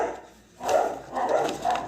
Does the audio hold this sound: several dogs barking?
yes